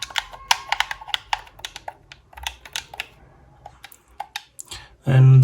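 Button presses on an Xbox wireless controller: a quick series of sharp, close plastic clicks at an irregular pace, with a louder thump at the end.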